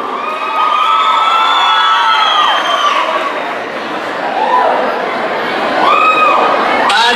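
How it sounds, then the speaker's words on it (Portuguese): A large audience at a student dance show cheers and shouts loudly throughout, with high-pitched whoops from young voices rising and falling in waves. "vamos aplaudir!"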